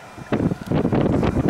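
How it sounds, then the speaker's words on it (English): Strong, violent wind gusts in Palm Desert, California, buffet the microphone in loud, rough surges that build after a brief lull and then roar steadily. "Ah, this wind is violent."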